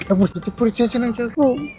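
Several high, wavering mews from kittens by a road come in quick succession, close and fairly loud, with no other sounds between them.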